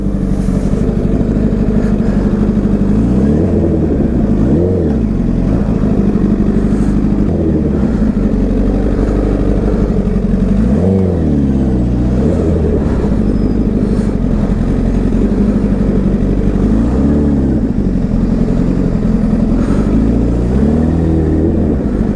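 A motorcycle threads through a traffic jam, its engine loud and close with repeated throttle blips and revs rising and falling over a steady drone of surrounding traffic.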